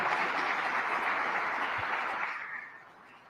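An audience at a public event in Rochester gives the Governor a round of applause, a dense roar of clapping that holds steady and then tapers away near the end.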